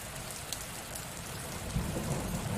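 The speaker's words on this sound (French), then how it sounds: "D'entendre la pluie couler, t'apaiser, juste au lointain, tout simplement." Rain falls steadily on a surface, a dense, even patter, with a deeper rumble swelling toward the end.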